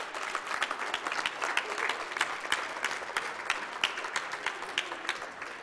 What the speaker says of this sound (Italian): Applauso alla Ramatese